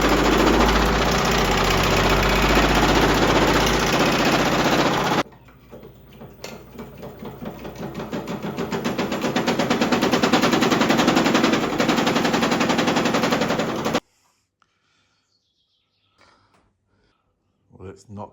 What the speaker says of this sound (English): we're going to see if we can use the old power hammer here